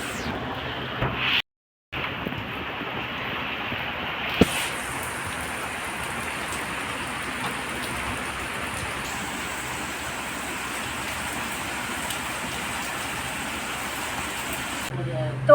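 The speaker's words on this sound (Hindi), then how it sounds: "अभी बहुत तेज़ बारिश हो रही है, झमाझम बारिश हो रही है" Heavy rain pours steadily in a dense, continuous hiss, broken briefly by a moment of silence and a sharp knock.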